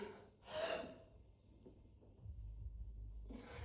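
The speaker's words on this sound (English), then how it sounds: "I would even say to take your breath before you're bent over" A sharp, deep inhalation taken before a heavy conventional deadlift stands out near the start, then a low rumbling body of sound builds, ending with another breathy exhale at the close.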